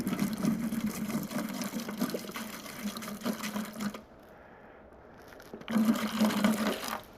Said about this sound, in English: So we're gonna put the water in here first.